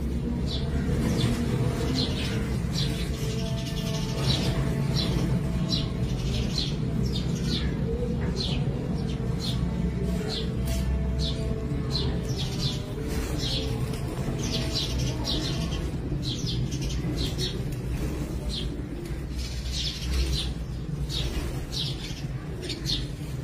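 Pigeons of good breeds cooing and chirping nearby, repeated short calls in a steady irregular pattern over constant background rumble, with occasional faint wing sounds.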